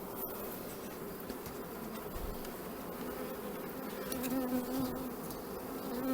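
Honeybees buzzing around an opened beehive, a steady dense drone of many wings, close and continuous, with small clicks of handling and no talking.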